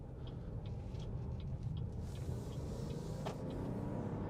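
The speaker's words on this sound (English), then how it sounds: "there's no turbo lag there. Turbo kicks right in" A 2021 Chevy Trailblazer ACTIV with a turbocharged engine pulls away steadily from inside the cabin, a continuous low rumble and road noise rising gently under acceleration, with no talking.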